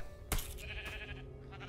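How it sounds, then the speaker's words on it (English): A sheep bleats from a spawn egg in the Minecraft: Story Mode video game: one short, loud bleat with a sharp onset, followed by a softer wavering tail over a low game ambience. "It's gonna spawn a sheep."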